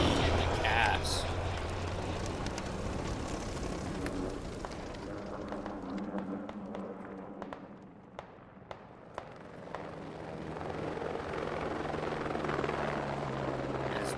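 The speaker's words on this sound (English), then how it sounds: "flying around in the helicopter, dropping off as much supplies as he can" A helicopter in the military shooter game Squad roars steadily with a dense rotor and engine drone, dipping slightly in the middle, while a few sharp gunshot-like cracks pop and voices talk over it.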